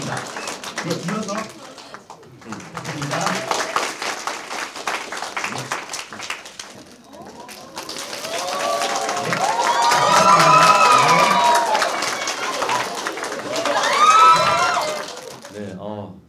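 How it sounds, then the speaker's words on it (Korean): Loud crowd cheering and applause, with high excited shrieks, greet an actor named honorary social-contribution ambassador at a National Pension Service ceremony in Seoul; the noise swells mid-clip, and voices and talk are mixed in throughout. "네, 열렬히 환호해 주셔서 정말 감사드리고요"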